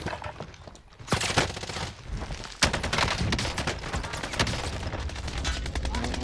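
Rapid, loud bursts of AK47 gunfire in the video game Call of Duty Cold War come in dense volleys, swelling and continuing almost without pause.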